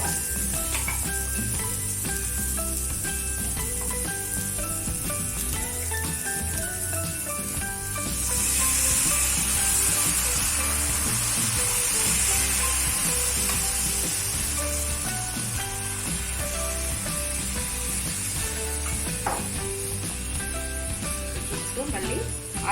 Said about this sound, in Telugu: దీని మీద ఈ కలుపుకున్న బియ్యం పిండి మిశ్రమాన్ని అటులాగా పోసుకోవాలి